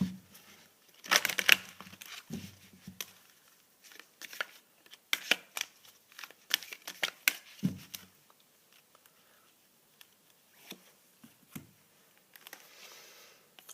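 A deck of oracle cards being shuffled and handled close by in a quiet room, with irregular bursts of soft papery riffling and slapping and brief pauses in between.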